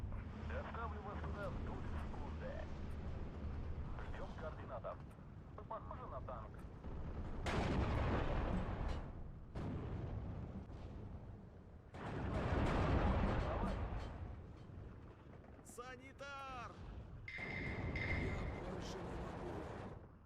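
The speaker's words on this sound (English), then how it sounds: "the mortars hit spot on there" Mortar fire hitting targets in the World War II strategy game Steel Division 2, a series of heavy booming impacts and rumbling blasts with gunfire, some landing close together, under a speaking voice.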